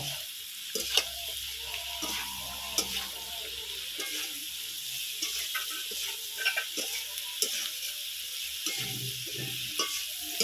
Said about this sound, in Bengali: লবণ দিয়ে আর হলুদ দিয়ে খুব সুন্দর করে আরও কিছুক্ষণ কষে নেব